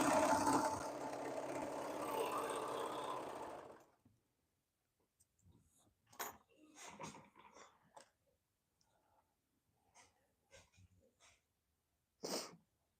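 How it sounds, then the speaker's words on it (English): A serger overlocks and finishes a seam on a sweetheart dress, a dense steady machine whir running for about four seconds before stopping, followed by scattered soft clicks and handling sounds. "Here's our serging seam finishing."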